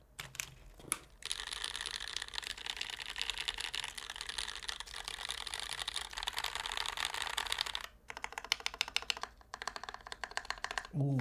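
Fast, steady typing on a mechanical keyboard with GMK Modern Dolch 2 keycaps fills most of the clip as a dense stream of close clacks, pauses briefly, then resumes in quicker bursts.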